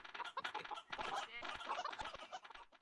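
Chickens cluck and gobble-like fowl calls chatter continuously inside a sheep farm in a video game server, a busy layered flock sound that fills the whole stretch.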